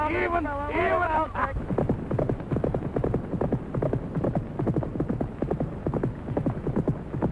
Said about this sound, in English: But if I don't ride that horse, Danny, so help me, nobody's going to ride him.